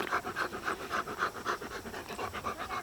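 A dog pants steadily and close by, a quick rhythmic run of breaths that keeps going the whole time with no voices over it. The dog is in a backyard vegetable garden in Quebec.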